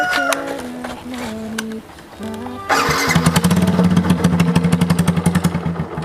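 A big motorcycle engine cranks over, briefly stutters, then catches and settles into a loud, rapid, steady pulsing idle close by, with faint voices and background sound beforehand.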